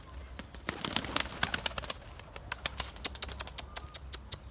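Pigeons flown outdoors by a keeper, with a hawk hunting the flock, give off a scatter of sharp irregular flutters and clatters, close and fairly loud, with faint calls mixed in.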